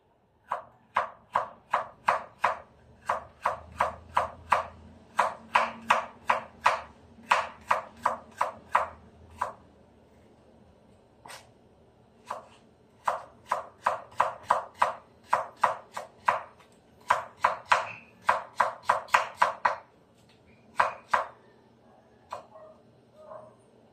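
A knife chops bitter gourd (ampalaya) on a board in quick, crisp taps, running in bursts of dozens of strokes with short pauses between, close and clear with no one speaking.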